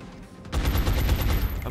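Automatic gunfire in the video game XCOM Long War erupts after a quiet start, a loud rapid burst of repeated shots that continues to the end.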